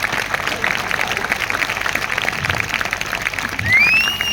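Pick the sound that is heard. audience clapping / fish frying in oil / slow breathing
audience clapping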